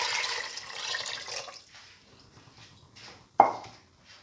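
Water pours into a rice and fenugreek mixture in a pan as a close, steady splashing rush lasting about a second and a half, followed by faint drips and one sharp clunk.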